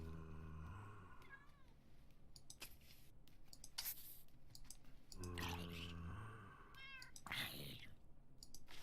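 A cat in modded Minecraft gives two distinct meows, one at the start and another midway, each fairly clear over soft clicking, with a voice talking around them.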